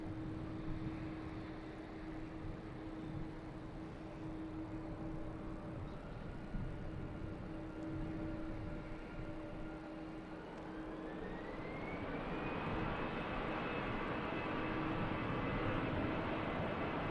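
A departing airliner bound for Malaga at Manchester Airport, heard as a steady distant engine roar that swells and rises in pitch as it powers up for takeoff, with a continuous background hum.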